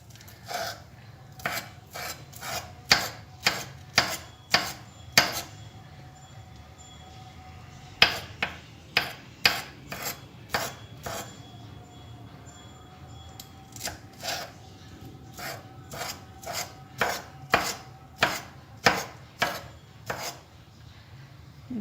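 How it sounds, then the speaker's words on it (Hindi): Green chilies chopped in a pull-cord hand chopper, a long series of rapid rhythmic whirring strokes in quick bursts with short pauses between, close and clear with no talking. "इसमें हैंड चॉपर में इसको डाल के अच्छी तरह से हम चॉप कर लेंगे"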